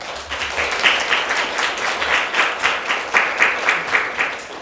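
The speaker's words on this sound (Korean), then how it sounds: "정신을 번쩍 들게 해주신 윤호 교수님께 다시 한번 큰 박수 부탁드립니다" Audience applause for a professor after a keynote lecture at an academic conference, a steady wash of many hands clapping at moderate loudness with no voices over it.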